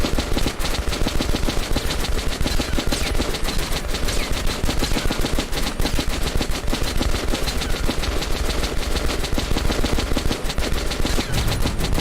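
Continuous rapid automatic gunfire in the video game Metro: Last Light Redux, with loud, close shots crackling steadily and without pause for twelve seconds and no talking.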